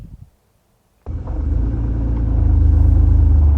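Car fitted with a MITA countersunk shift knob starting off: after a second of near silence, an engine catches into a loud, close, low rumble that builds gradually as it pulls away.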